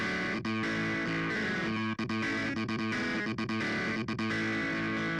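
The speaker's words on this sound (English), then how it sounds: "the keyboard sounds will have some of that distortion" A heavily distorted electric keyboard plays sustained buzzing chords with brief choppy breaks, loud and dense, like an overdriven guitar.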